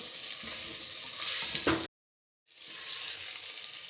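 Mutton pieces frying in oil in a pot while cooking aloo gosht give a loud, steady sizzle that cuts off abruptly for about half a second, then resumes at a similar level.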